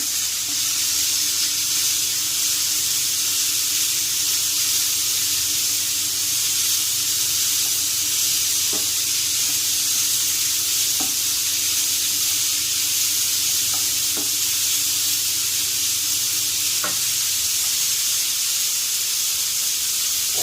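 Garlic, chopped tomato, onion and whole coriander leaves fry in a pan for a bitter gourd masala curry, giving a steady, even sizzle and hiss throughout, with a few faint clinks of stirring.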